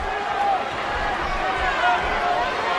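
Arena crowd noise from a WWE 13 wrestling match between Big Show and Mark Henry, a steady roar of cheering that fills the whole stretch, with a commentator's voice over it.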